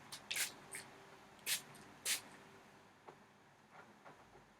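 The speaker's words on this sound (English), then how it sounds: "This is just White Rain, regular, spritz, hairspray, and you just spray your face." White Rain regular aerosol hairspray sprayed onto a face in several short hissing bursts, quiet and close, with gaps of near silence between them.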